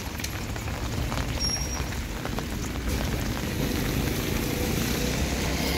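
Steady rain falls on a street around open drain grates in Keçiören, a dense continuous patter with faint distant rumble and no voices.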